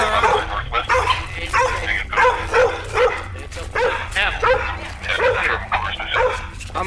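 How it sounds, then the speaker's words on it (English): Dogs bark outside a house in a rapid string of loud, close yips and barks, with some whimpering, while people talk over the noise. "The dogs are out."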